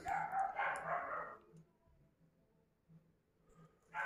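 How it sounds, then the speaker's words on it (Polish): Several dogs bark in a short burst, apparently at a cat, then fall quiet, leaving faint distant noise. "psy się rozszczekały na coś, chyba kota"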